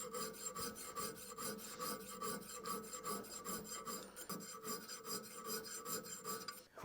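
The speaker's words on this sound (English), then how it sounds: "Let's get in there with a little bit smaller file." A small file rasping across knife steel to remove a crack, a fast steady back-and-forth scraping rhythm, close and continuous, with no voices.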